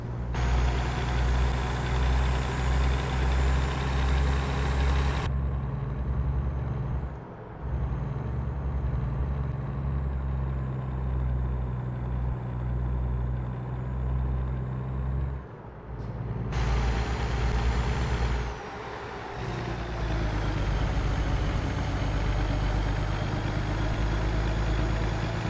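A heavy truck in American Truck Simulator drives a lap of a race track, its engine droning loudly and steadily, dropping briefly during gear changes with an air-brake hiss partway through, then pulling hard again.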